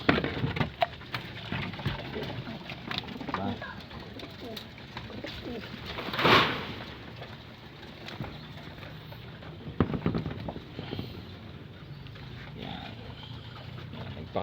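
Soft pigeon coos mingle with fluttering, scratching and shuffling sounds throughout, with a brief louder rush of wing flaps partway through.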